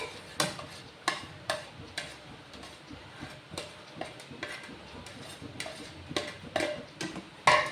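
Onions and curry leaves sauté in a pan for a prawn biryani, with a soft sizzle under repeated sharp clinks and scrapes of a spoon stirring against the metal.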